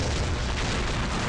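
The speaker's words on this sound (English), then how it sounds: "The explosion." A dense, loud blast from a laser skill in the fishing video game Fishing Strike fills the whole moment, a sustained rumbling boom with no distinct separate hits.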